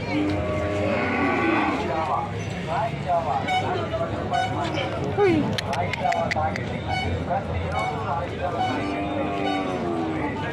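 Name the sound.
pair of bulls at cattle market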